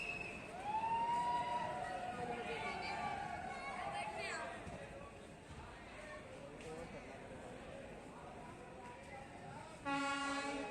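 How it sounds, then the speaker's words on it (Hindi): Passenger train pulling away from a station on the line toward Shahgarh, with horn-like tones and wheel and engine noise under a crowd's chatter, a steady loud rumble and a repeating pulsed tone near the end. "ट्रेन को आगे शाहगढ़ की तरफ विदा कर दिया गया"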